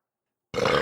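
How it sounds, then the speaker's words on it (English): A person lets out a single sudden burp that breaks a moment of silence. It is fairly loud and close, with no speech around it. "Sorry, that was my burp."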